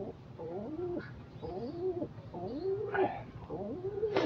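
Nearby pigeons give repeated soft, rolling coos in a steady rhythm, moderately loud, with a few faint rustles between calls.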